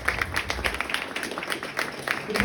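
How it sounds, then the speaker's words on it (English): A stand-up comedy club audience bursts into applause, a dense patter of many hands clapping throughout, with some voices mixed in. "It's a round of applause."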